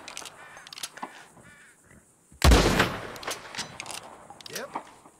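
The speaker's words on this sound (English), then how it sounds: "Go on, give them a warning shot." A single loud, close gunshot rings out as a warning on a ranch, its blast trailing off over a second or so amid quieter background sounds and some talk.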